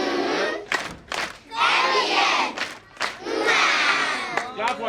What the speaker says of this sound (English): Let's give NBM a love shout by signal.